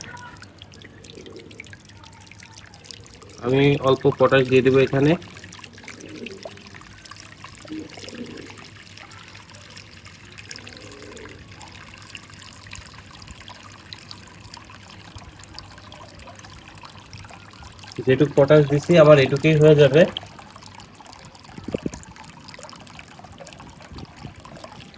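Water runs into a bath tub for pigeons in a loft, a soft continuous trickle and drip in the background, interrupted twice by someone speaking nearby.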